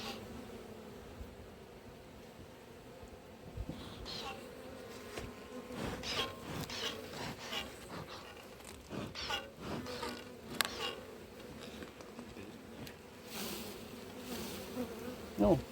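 Honey bees buzz steadily throughout a hive inspection and split, a dense, continuous drone with scattered rustles and frame handling noises close by, fairly quiet overall.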